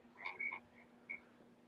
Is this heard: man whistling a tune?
no